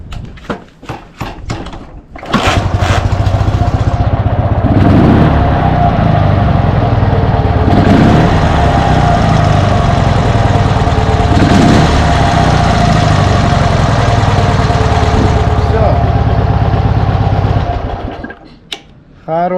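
Dnepr MT11 motorcycle engine fitted with PZ30 carburetors starts after a few faint knocks, then runs at a steady loud idle for about fifteen seconds before cutting off, with a voice briefly heard.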